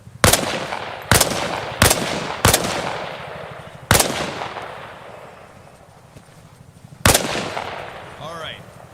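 In the military shooter Arma Reforger, a soldier fires a rifle while leaning out from behind a wall: six sharp single shots at uneven intervals, each ringing out in a reverberant echo with short quiet gaps between them.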